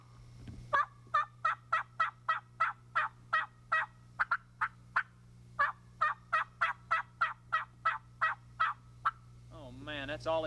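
A caller imitates an aggressive turkey hen yelp, producing long runs of sharp, rapid, evenly spaced yelps close by, with a short pause between runs over a steady low hum.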